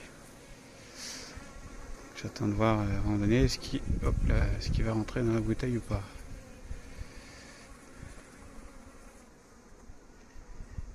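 Honeybees buzz steadily around a nearby spot during swarm hiving while someone talks over them in a low voice, the drone continuing faintly after he stops.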